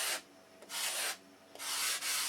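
Wood on a CLC boat build is hand-sanded with a sanding block, three distinct long gritty strokes separated by brief pauses, close and fairly quiet.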